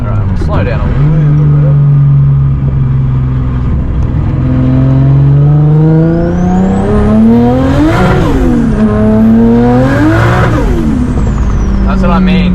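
A 500 hp RB26-powered Nissan S15 accelerates hard on a mountain road in third gear, the engine note climbing and surging through repeated loud revs, with the driver talking over it in the cabin.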